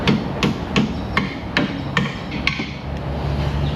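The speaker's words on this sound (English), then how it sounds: "Just love taps, don't hit it hard." Light hammer taps on a car strut bracket being fitted onto its stud, about nine sharp metallic knocks at a steady, unhurried rhythm, close and clear with no talk.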